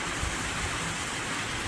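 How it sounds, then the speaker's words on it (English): Waterfalls in a small canyon, a steady broadband rush of falling water heard from nearby, faint and continuous with no voices. "Some waterfalls."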